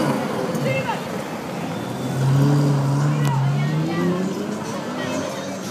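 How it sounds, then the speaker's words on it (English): A car engine revs at an Irish road rally event, its steady low tone rising and swelling midway through, heard amid crowd chatter and outdoor street noise. "Give us a real rev there. Give it a rev."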